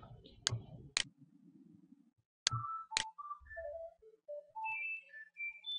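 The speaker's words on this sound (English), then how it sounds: "And that is my VoIP phone ringing." A VoIP desk phone rings in an electronic melodic pattern of rising and falling tones, faint and near, after a few sharp clicks at the start.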